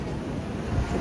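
Sea waves surging at the beach at Ganpatipule, a brief broad wash of surf with a wind-like rush and a low swell toward the end.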